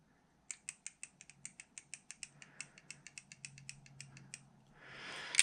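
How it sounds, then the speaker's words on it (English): Loose gears with slop in the drivetrain of a twin-motor RC vehicle give a rapid series of sharp mechanical clicks in an irregular rhythm, close and distinct, followed by a rising whir toward the end. "So I got slop in this gear and slop in that gear."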